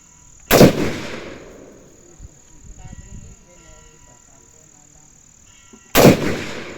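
Two loud gunshots ring out at a marksmanship range several seconds apart, each a sharp crack with a short echoing tail. Quiet murmured voices and faint movement fill the gap between them.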